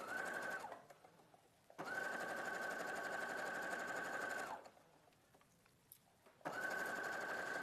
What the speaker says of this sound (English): We're going to sew this now.